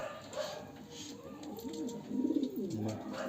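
Pigeons of a top-quality pair kept at a home loft, with soft low cooing that swells toward the end, under quiet background murmur.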